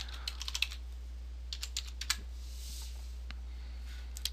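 Password typed on a computer keyboard, with quiet scattered key clicks in short bursts over a low steady hum, faint and close.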